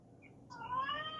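A house cat gives a short, faint meow, rising then trailing off, over quiet background hiss with no speech.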